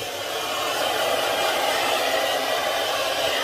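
A hair dryer blows with a steady, breathy roar, close and continuous for a few seconds.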